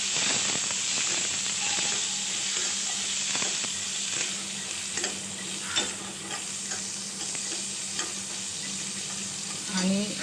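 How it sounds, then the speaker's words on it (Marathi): Washed flat bean pods are stirred in a frying pan with turmeric, giving a steady close sizzle and hiss with scraping stirs throughout. "ज्या या शेंगा छान धुवून घेतल्यात त्यात याच्यामध्ये टाकायच्या आणि मिक्स करून घ्यायचं व्यवस्थित"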